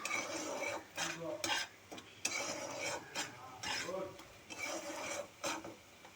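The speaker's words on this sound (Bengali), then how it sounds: "এবার ইঁচড়টাকে দিয়ে আমি একটু বেশ ভালো করে ভেজে নেব।" Jackfruit and shrimp stirred and fried in a pan, with a steady sizzle broken by repeated scraping strokes of a utensil against the pan, close and moderately loud.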